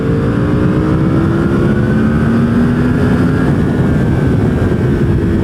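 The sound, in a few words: powerful motorcycle engine accelerating in second gear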